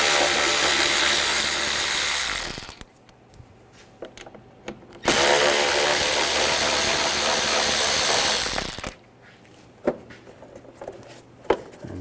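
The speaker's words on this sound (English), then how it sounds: "take these screws out." A power tool with a T20 socket backs out the intake tube screws on a 2007-2013 BMW 328i 3.0L inline-six, two loud sustained whirring runs of several seconds each, separated by quiet gaps with small clicks and taps.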